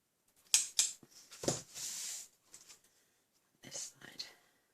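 Paper being trimmed for a handmade Stampin' Up birthday card: a few quick crisp snips and a short slicing rasp, close and fairly quiet, with gaps of near silence between.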